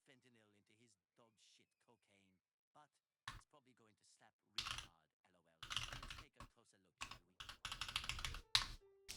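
Computer keyboard keys clicking in bursts, quick clusters of loud close keystrokes after a stretch of someone talking, with a few heavier thuds among the typing.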